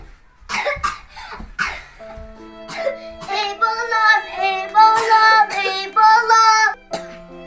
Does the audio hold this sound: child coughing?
yes